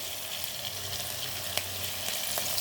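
Ginger garlic paste and curry leaves fry in a pan with a steady, close sizzle and a few faint clinks.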